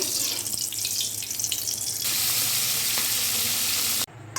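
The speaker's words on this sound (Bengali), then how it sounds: "এবার মাছগুলোকে হালকা ভেজে নেব।" Koi and shingi fish fry in hot oil in a wok, a loud, steady sizzle and crackle that runs unbroken for several seconds, then cuts off sharply near the end.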